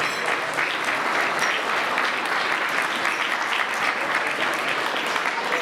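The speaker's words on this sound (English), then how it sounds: "Absolutely give her a round of applause, ladies and gentlemen" Wedding guests give a sustained round of applause for the matron of honor, a dense, even wash of clapping from a large crowd throughout, fairly close.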